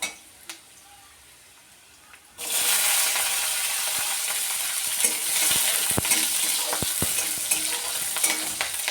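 A garlic clove dropped into hot oil bursts into a loud, steady sizzle after a quiet start, with a few sharp clinks and scrapes of a utensil against the pan.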